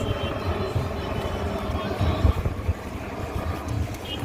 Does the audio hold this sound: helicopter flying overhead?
yes